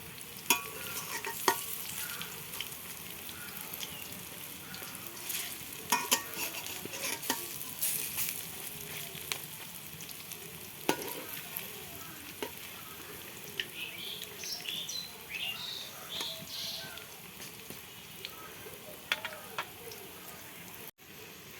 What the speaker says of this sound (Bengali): তো এরকম করে আমি লাল লাল করে ভেজে নেব